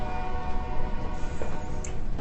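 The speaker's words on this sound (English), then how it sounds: "That's the train." Distant train passing in Tucson, a low steady rumble with a faint, sustained horn tone carrying over it, fairly quiet and without talk.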